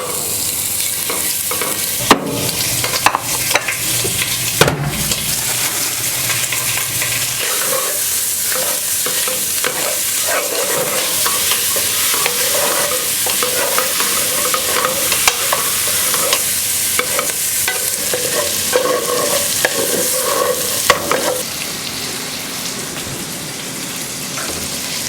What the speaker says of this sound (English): Now we'll add our sausage.